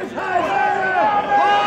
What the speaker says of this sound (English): Fucking Isaiah absorbing the love from this jungle crowd.